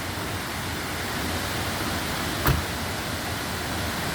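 Aruvikuzhy waterfall near Kottayam, Kerala, pours in a steady, even roar of falling water, with one brief sharp click midway.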